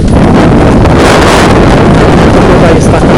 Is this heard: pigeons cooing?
no